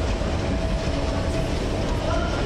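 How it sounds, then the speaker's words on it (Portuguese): An Amsterdam metro train passes underneath as a steady, loud rumble of rolling wheels. It holds constant for the whole stretch, with no clear speech over it. "O trem passa embaixo."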